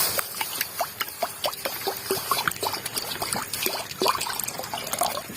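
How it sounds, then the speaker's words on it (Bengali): Water poured into a wok after steaming pointed gourd, a close trickling pour with irregular splashes and drips running throughout, no speech. "পটল ভাপানো কড়াইতেই জল দিয়ে দেব।"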